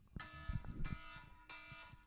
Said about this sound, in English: Sorry, the timer went off.